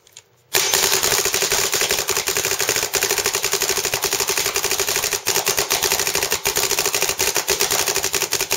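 A 2K6 Timmy paintball marker fires Reballs in a rapid, continuous stream of loud snapping shots that starts abruptly and keeps a fast, even rhythm for several seconds.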